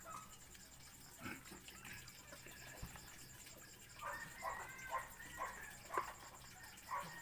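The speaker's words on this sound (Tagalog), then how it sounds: "Medyo maingay lang yung aso dito sa amin." A dog nearby barks and yelps in a series of moderately loud, rhythmic calls in the later part, over a low background hum.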